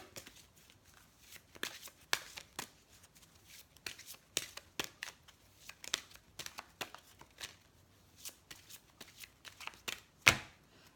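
Tarot cards shuffled and drawn close up during a love reading, giving quiet, irregular riffles, taps and papery flicks over eleven seconds, with a sharper snap near the end and no talking.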